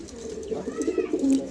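Pigeons coo on a rooftop loft, several soft throaty calls rolling one after another, close and fairly clear over a light background hum.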